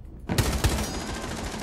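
Gunfire in Rainbow Six Siege erupts after a brief silence, with two sharp close shots followed by a dense, loud rattle of rapid fire and echoing reverberation.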